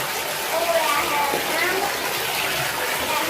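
Bath water sloshes and splashes in a steady, close wash of noise, with a faint voice murmuring underneath.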